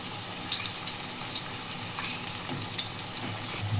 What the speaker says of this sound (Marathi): हे बघा सगळे असे पलटी करून घेतलेले आहेत. आता इकडची बाजू भाजून घेऊ चांगले.